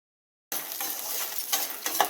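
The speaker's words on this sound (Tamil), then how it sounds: "ஒவ்வொரு நட்ஸாக ரோஸ்ட் பண்ணி எடுத்துக்கலாம்." A steady frying sizzle of nuts roasting in ghee with occasional scraping as a spoon stirs the pan, close and continuous after a short silence.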